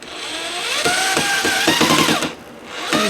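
A power drill drives a screw into a wooden squirrel-proof bird feeder, its motor whining up and down in several short bursts with a dip near the end, close and loud with no talk.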